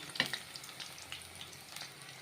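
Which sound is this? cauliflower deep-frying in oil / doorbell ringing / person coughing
cauliflower deep-frying in oil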